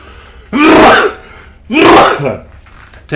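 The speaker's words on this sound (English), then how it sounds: "sorry for the sneeze" Two loud, close sneezes about a second apart, each a sharp explosive burst, from someone narrating over a stealth PC game.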